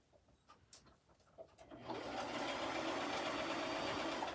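Home sewing machine running steadily as it stitches elastic onto a fabric face mask for a child, a continuous close whirring hum that starts after a moment of quiet handling clicks and holds to the end.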